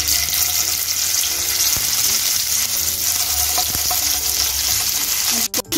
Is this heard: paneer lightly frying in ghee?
yes